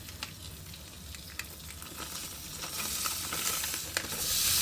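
Ground beef browning in a pan for hamburger stew, a steady close sizzle and crackle with brief spatula scrapes, swelling into a louder, brighter hiss toward the end.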